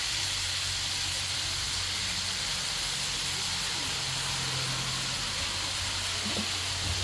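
Floured deer meat fries on a Blackstone griddle with a loud, steady hiss and sizzle that fills the whole stretch, close and continuous, with faint low thumps underneath.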